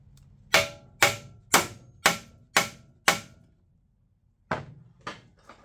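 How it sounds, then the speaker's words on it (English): A hammer strikes a Honda EU3000is generator six times in a steady rhythm, each blow a loud, sharp metallic knock. After a short pause come three more hits, slightly softer. "Strike it with a hammer if I can get it."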